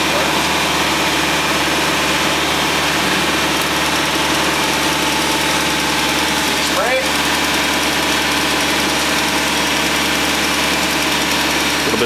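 Car engine running after being started with a new starter, a loud continuous rumbling idle with steady vibration throughout, close to the microphone.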